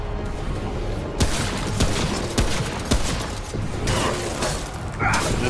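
Gunfire rattles steadily through a co-op session of the video game Remnant: From the Ashes, sharp shots cracking repeatedly over dense, continuous game noise.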